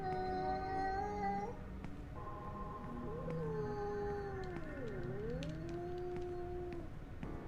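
A cat caterwauling in the video game Yuppie Psycho, long wavering yowls that rise and dip in pitch, steady and fairly loud with no talking.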